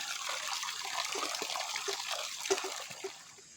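Running water trickles and splashes steadily as meat is rinsed for Lao-style larb, with small irregular drips and clatters near the end.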